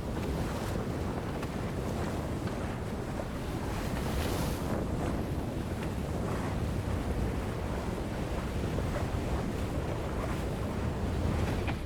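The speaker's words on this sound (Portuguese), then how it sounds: "O vento tá bom, o mar tá começando a cair. Mas ainda tá uma bateção danada." Sea waves and strong wind batter a small sailboat partway through the Northwest Passage, a steady rough wash of water and wind roar with no voices.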